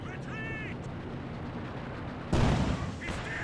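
A white phosphorus artillery shell lands in the Company of Heroes 2 battle. One sudden, loud blast bursts out over a low battlefield rumble and a few faint chirps, then fades into a lingering roar.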